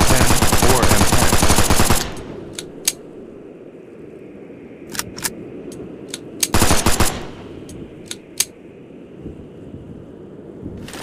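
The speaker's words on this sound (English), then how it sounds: "Military Armament Corporation Model 10 or M10 or M10." M10 submachine gun fired in the video game Gorebox: a fast full-auto burst of sharp close shots for about two seconds, then scattered single cracks and short clicks, another rapid burst, and a few final spaced shots.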